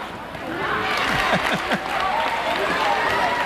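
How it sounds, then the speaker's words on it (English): A high school basketball crowd in a gym cheers and claps after a three-pointer, a dense steady wash of applause and shouting with a few louder claps near the front, while people talk over it. "He hit a three-pointer, and the applause was like clap, clap, clap."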